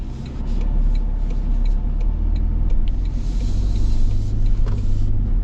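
A 2025 Toyota Sequoia SR5 cruises with a low, steady engine and road rumble heard from inside the cabin, a smooth continuous drone with faint ticks and no talk.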